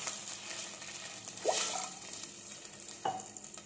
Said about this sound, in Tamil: வாட்டர் நல்லா பாயில் ஆகுது.